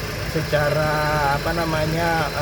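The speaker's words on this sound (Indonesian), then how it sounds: "Pastikan bahwa fan listriknya itu berputar secara" A 2008 Hyundai Avega 1.5 GL manual idles steadily up close with a constant whirring drone from its electric radiator fan, while someone talks over it.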